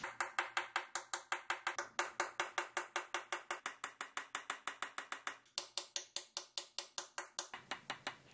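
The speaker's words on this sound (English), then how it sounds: "Here I use a chisel and a graver together in order to get all that dynamic form going on around the face" Rapid, regular metallic tapping of a small hammer driving a chisel and graver into a Damascus steel shield, dozens of crisp ringing strikes in a steady rhythm, close and moderately quiet.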